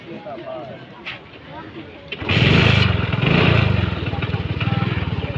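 A small used motorcycle at a bike market starts up after a quiet stretch and keeps running, a loud, steady close engine rumble with people talking underneath.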